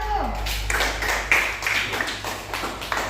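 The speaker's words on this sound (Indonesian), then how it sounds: "tepuk tangannya untuk kelompok 1" A school class applauds a student group, giving a scattered patter of uneven claps and taps from nearby children, with voices talking over the clapping throughout.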